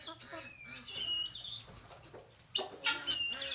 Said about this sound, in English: And then, of course, we have the guineas and the chickens.